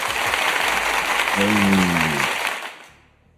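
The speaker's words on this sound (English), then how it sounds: "Give yourself a round of applause." A studio audience breaks into steady clapping and cheering, loud and close, with a voice calling out over it before the applause quickly fades away.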